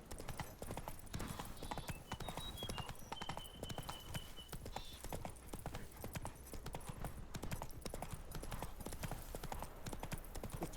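Roach's hooves from The Witcher 3 clop in a brisk, regular rhythm throughout, with faint tonal game sounds drifting over the hoofbeats.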